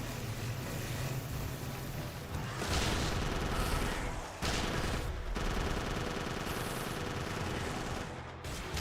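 Rapid, continuous gunfire from the Jurassic Park: Arcade rail-shooter game, a dense, loud barrage that barely lets up, with brief dips around the middle and near the end.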